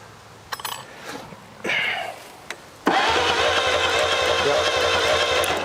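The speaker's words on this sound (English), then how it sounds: "Sounds a little bit more like an engine with the intake and exhaust manifold on it" An old 1947 International KB3 truck engine, newly fitted with intake and exhaust manifolds, cranks in a few short, uneven bursts, then catches and fires, settling into a loud, rough, continuous running roar.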